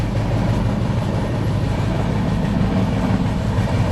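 Passenger train in motion inside a crowded sleeper class coach, a steady loud rumble and rattle of the carriage running continuously with faint rhythmic clatter and no talk.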